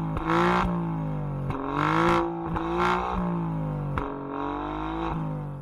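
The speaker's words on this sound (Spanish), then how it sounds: "los gases de escape vayan por otro sitio, mucho más corto y produzcan un sonido más gratificante" A 2019 Alfa Romeo Giulia Quadrifoglio exhaust revs repeatedly, with four or five loud close blips rising and falling over a steady deep idle rumble, and nobody talking.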